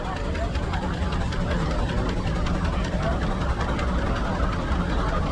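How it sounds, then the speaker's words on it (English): A 1913 Minneapolis 20-horsepower steam engine runs in a threshing-show parade, giving a loud, steady, dense mechanical rumble and chuffing that continues throughout, with crowd voices mixed into the background. "Next we have a beautiful Minneapolis engine. This is a 20 horsepower Minneapolis."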